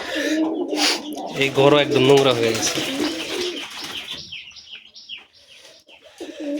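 Two pairs of breeding pet pigeons being fed coo and chirp softly indoors while a person speaks over them, the bird calls growing clearer as the talking fades.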